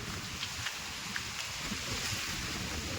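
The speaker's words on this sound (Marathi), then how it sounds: "हा किती हवा सुटली आहे बघा, जोरदार वारा." Strong monsoon wind roaring steadily at Rangana Fort, with heavy rumbling buffeting, loud and continuous, with faint higher gusts breaking through now and then.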